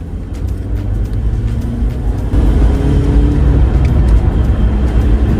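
An old car, someone's first car, drives along with a loud, constant low engine rumble and road roar, swelling slightly as it speeds up partway through, heard from inside the cabin.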